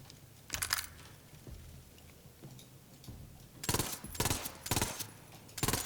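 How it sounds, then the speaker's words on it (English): A Dahl gun in Borderlands 3 fires in quick three-shot bursts, with tight clusters of crisp shots repeating several times. The bursts are close and fairly loud against a quiet background. "it's a very fast burst fire there"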